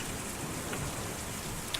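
Steady, even rain pours down in the video game Kentucky Route Zero, a dense continuous hiss with a faint patter and no voices.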